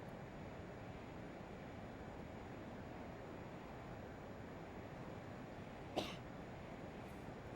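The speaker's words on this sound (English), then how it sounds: "Nice sneeze with our FS Realistic." A pilot sneeze effect from the FS Realistic add-on in Microsoft Flight Simulator 2020 bursts out once, brief and abrupt, over a steady cockpit drone.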